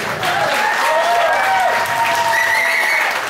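Enthusiastic applause for fusion musicians at a concert in Hungary fills the room with dense, steady clapping from a large audience, with cheering and a few shouts on top.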